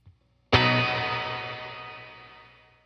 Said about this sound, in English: Simply put, reverb is the reflection of sound off of the surfaces of a room or environment.